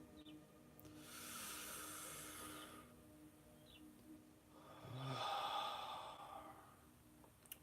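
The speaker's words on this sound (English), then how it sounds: "One more breath." Two slow, deep breaths during a guided rising meditation, each a long, soft airy inhale-exhale with a gentle sigh-like release, close and quiet, separated by a brief pause of near stillness.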